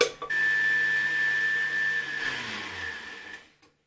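A kitchen blender on a low power setting of 1 or 2 whirs steadily as it mixes vegan pancake batter. The motor hums close and even for about three seconds, then slows and winds down to silence.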